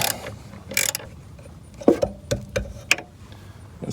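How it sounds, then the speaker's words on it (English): A 13mm socket turned by hand on a running board mounting bolt of a 2020 Toyota Tacoma, giving several short, close ratcheting clicks and metallic rubs in an uneven rhythm. "13mm socket on here. Get a couple hand turns on this."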